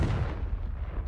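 A Confringo fire spell blast in Hogwarts Legacy, a dense, loud rumbling burst with heavy low end that fills the whole moment and tails off, close up and alone.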